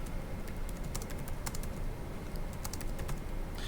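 Typing on a computer keyboard while writing text in a Popplet mind-map app, with steady, close key clicks in quick irregular bursts over a faint background hum.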